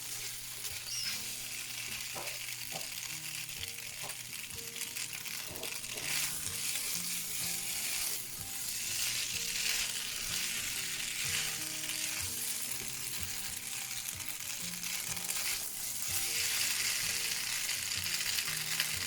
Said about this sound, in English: making sure that your pan is hot before you throw your noodles in